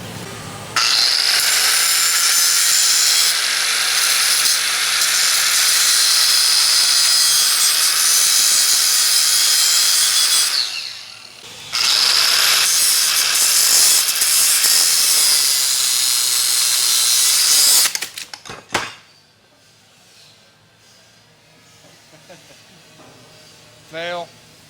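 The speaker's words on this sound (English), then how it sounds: "if you let go of the grinder when that happens, it doesn't blow up in your face" Angle grinder cutting off brake line brackets in a shop, its disc failing; a loud, steady high-pitched grinding hiss runs for about ten seconds, breaks briefly, resumes, then cuts out abruptly, leaving quieter shop sounds.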